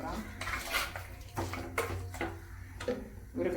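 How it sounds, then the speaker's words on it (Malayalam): Chicken meat for a traditional Kozhikode-style curry being stirred in a pan, a metal spoon clanking and scraping against the pan in irregular loud strokes, close up with a low hum beneath. "ഇളക്കി കൊടുക്കാം."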